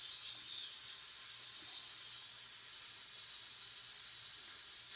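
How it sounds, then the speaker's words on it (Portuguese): Pressure cooker releasing steam in a kitchen: a continuous high, airy hiss that holds steady and fairly quiet for the whole stretch, with no talk over it. "Eu odeio panela de pressão porque ela faz barulho"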